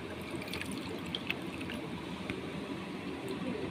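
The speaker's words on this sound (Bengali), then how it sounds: "তেঁতুলটা জল দিয়ে ভিজিয়ে দেব।" Water poured over ripe tamarind in a bowl to soak it for a lychee chutney, a steady soft trickle and splash heard close up without any talk.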